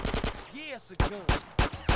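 Gunfire in Grand Theft Auto San Andreas, four or five sharp, loud single shots spaced at regular intervals, following a brief burst of talk and a short rising tonal effect.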